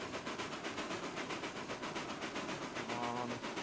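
A steam locomotive hauling a train up a grade in the railroad simulation game Railroads Online, a rhythmic chuffing exhaust beat pulsing steadily at moderate volume, joined near the end by a brief tonal whistle-like hum, no voices.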